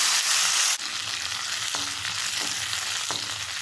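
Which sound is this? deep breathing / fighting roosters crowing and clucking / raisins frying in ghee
raisins frying in ghee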